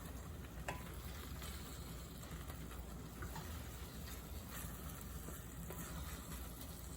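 Beef pieces for empal manis, Indonesian sweet beef, frying in a pan, giving a steady, even sizzle with a few faint clicks of the meat being turned, with no talk.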